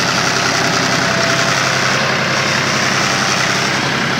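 A John Deere 5050 D tractor engine idles loudly and steadily up close, a continuous throbbing diesel rumble with no change in pace.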